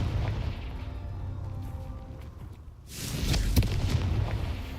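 Confringo spell explosion in Hogwarts Legacy hits abruptly midway as a loud, bright booming burst over low rumbling game ambience, then lingers as a sustained crackling roar.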